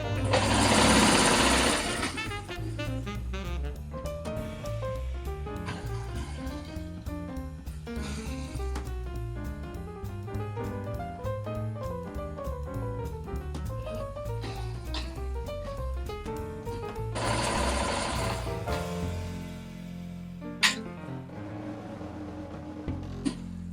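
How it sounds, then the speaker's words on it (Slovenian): A domestic sewing machine stitches in steady runs, including reverse stitching, its motor whirring and needle clattering at varying speeds, with someone talking over it. "začnemo in potem si pomagamo še z gumbom za vzvratno šivanje"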